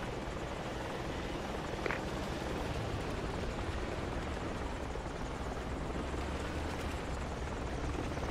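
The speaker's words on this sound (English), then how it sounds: "And the chopper coming." Steady rotor thump and engine roar of a helicopter in the video game Project Reality, loud and continuous, blended with dense background rumble.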